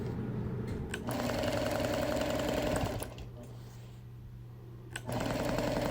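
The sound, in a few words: sewing machine quilting a straight line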